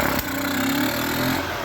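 Golf cart engine fitted with an Amazon carburetor, running steady right after starting, choke just taken off, a continuous close rough idle with a brief transient at the start.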